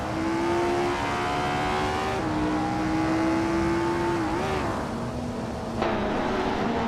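Race cars in a video game race drone steadily at high revs, engine tones holding and shifting pitch as cars jostle close together, continuous and loud with no voices.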